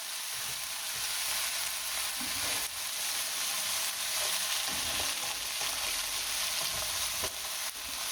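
Gnocchi sizzle and fry in a pan while being stirred, giving a steady broadband crackle with occasional soft scraping knocks, fairly close and continuous without voices.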